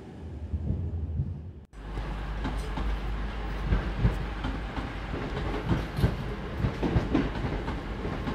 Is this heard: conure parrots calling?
no